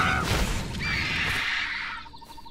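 A harpy creature in the Titan Quest game lets out a loud, shrill cry that sounds like a whinny, with crashing noise in the background over about two seconds.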